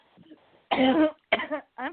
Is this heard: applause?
no